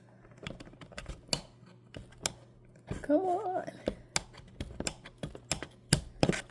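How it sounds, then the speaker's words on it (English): Sharp snipping clicks from scissors cutting a frayed candle wick repeat irregularly, close up, with a brief muttered voice partway through. "Cutting that wick was not easy."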